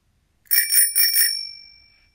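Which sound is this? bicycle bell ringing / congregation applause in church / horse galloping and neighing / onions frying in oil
bicycle bell ringing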